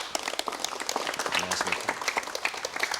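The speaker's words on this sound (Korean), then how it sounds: "박수로 맞이해 주시면 대단히 고맙겠습니다" Studio audience on a Korean TV talk show applauds to welcome a professor guest, a dense, steady round of clapping lasting throughout.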